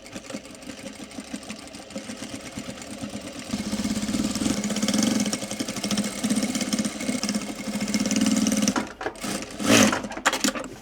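A sewing machine stitches a flat felled seam along the back rise of a pair of shorts, its needle whirring in a steady fast rhythm that grows louder midway, then stops with a few clunks.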